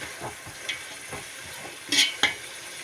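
Masala is mixed and fried in a pan with a sizzling hiss and intermittent scraping stirs, plus a couple of louder spattering bursts near the end.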